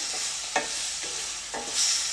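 Lemon pickle with salt and chilli powder simmering in a pan, a steady close hiss broken by a few soft spoon scrapes and stirs.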